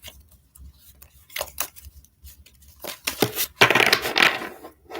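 Tarot cards are shuffled by hand in a quiet room, with soft riffling and sliding bursts that grow denser and louder toward the end, close and alone without talk.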